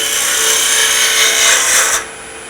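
A planing cut slices through wood, a steady close rasping hiss lasting about two seconds before it drops away to quiet.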